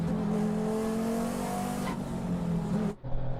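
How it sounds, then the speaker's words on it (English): Race car engine of a KTM Crossbow GTX at an endurance race on the Slovakia Ring roars loudly and steadily for about three seconds, then dips briefly before surging again close by. "You could hear the roar of the engine"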